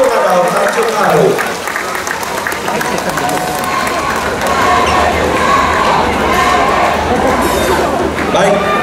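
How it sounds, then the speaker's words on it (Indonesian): Loud, dense crowd applause and cheering fill a hall for a contestant at the Unduk Ngadau pageant, steady and close throughout, with a voice speaking over it. "Kita berikan tepukan"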